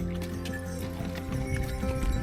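Horse hooves sliding and clopping through deep mud on the Tulian Lake mountain trek near Pahalgam, Kashmir, a continuous close squelching shuffle with irregular steps and an occasional faint whinny.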